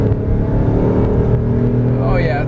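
A 2005 Ford Five Hundred pulls hard from a standstill toward 60 mph, its engine rising in a loud, continuous climb heard from inside the car, with someone talking over it.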